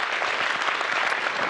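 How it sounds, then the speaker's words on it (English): Brief burst of audience clapping at a design conference summit session, a dense even patter that stays loud for the whole moment. "applause for these two beautiful couples"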